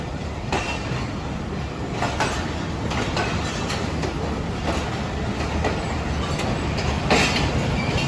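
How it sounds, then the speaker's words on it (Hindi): Jaffar Express train at Lahore Junction railway station: continuous loud rolling rumble with periodic rhythmic clacks of wheels over rail joints, a steady mechanical roar throughout. "जाफ़र एक्सप्रेस अपनी मंजिल पर पहुंच चुकी है"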